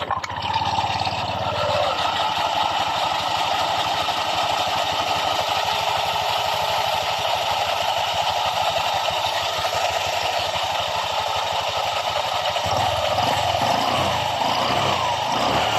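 A Honda Click 125 scooter engine idles steadily and loudly just after starting, a constant buzzing drone with a slight shift in tone near the end.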